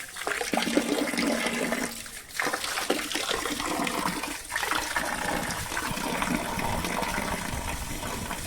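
Water gushes forcefully and continuously from a water tank cleaning pump, a loud, close rush of splashing flow that dips briefly twice but keeps going throughout, with no talk.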